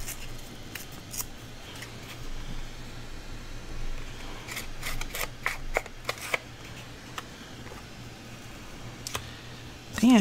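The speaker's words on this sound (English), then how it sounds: "We'll just have to trim it off just a tiny bit." Scissors snip paper trimmed for a handmade mini notebook: soft, scattered crisp cuts and paper rustles at close range, quiet against a faint background hum.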